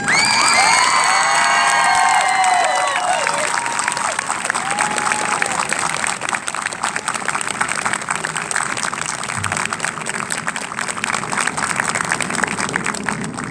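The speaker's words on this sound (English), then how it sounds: "if you'd please rise and take the necessary applause that you deserve, Miss Linda Ames and Miss Amy Heath." A graduation crowd applauds and cheers for faculty members, dense clapping with shouts and whoops filling the hall, loudest at first then settling into sustained steady applause.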